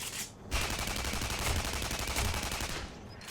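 Auto weapon fire in Tribes: Ascend: a sustained rapid-fire burst of evenly spaced shots, close and fairly loud, starting after a brief pause and stopping just before the end.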